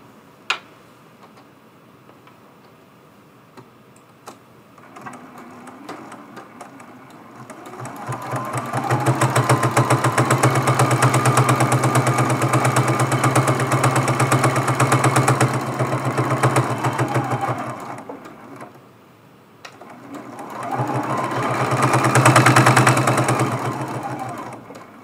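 A sewing machine stitching an applique Christmas tree ornament, running in two loud, fast, humming bursts with a steady mechanical chatter, close by and without talk, separated by a brief quiet pause.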